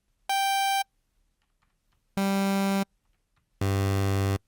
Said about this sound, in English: it's not going to look like a saw wave, but it is going to sound like one